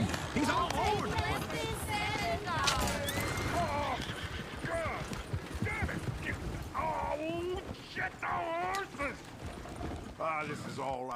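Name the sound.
horse neighing and galloping in Red Dead Redemption 2 video game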